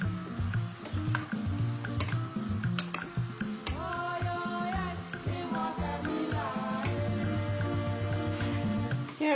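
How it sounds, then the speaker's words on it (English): Coated peanuts fry in hot oil, a continuous close sizzle with occasional stirring and clinks from the pan, steady throughout with no voices. "fry it till it's golden brown"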